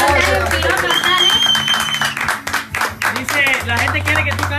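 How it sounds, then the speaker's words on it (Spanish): An audience at a live gathering in Charlotte, North Carolina applauds in a steady, fairly loud stretch of clapping. Music and voices sound underneath. "un aplauso para todos ustedes"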